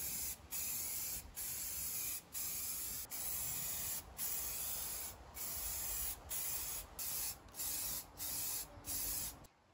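A spray gun hisses in repeated bursts of about a second each while spraying clear coat on a Ford Fiesta ST150, separated by brief pauses, a steady close airy spray with no talking.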